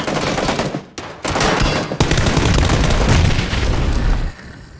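Grenade blasts and gunfire in the battle royale game PUBG Battlegrounds, loud booming bursts with rattling shots, two sharp cuts near the start, then sustained roaring explosion noise that fades at the end.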